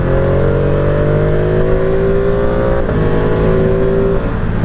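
A Ducati Streetfighter V2 motorcycle engine pulls hard under acceleration, its steady loud drone climbing gradually in pitch for about four seconds before a slight dip near the end, with no voices over it.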